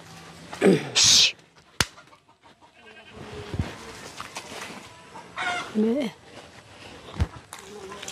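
Chickens cluck in short bursts near and around, with a rooster-like call, over outdoor farm background and a few knocks.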